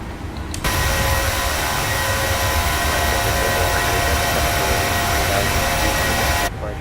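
A PMDG Boeing 737-800 airliner climbs in Microsoft Flight Simulator, its jet engines a steady, loud, broadband roar that cuts in abruptly and holds for about six seconds before dropping away, with no talk.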